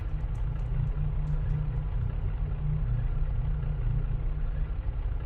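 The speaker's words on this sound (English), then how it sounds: "You hear it again, that engine sound." A steady low engine rumble drones continuously, even and unbroken, with a faint higher clatter over it.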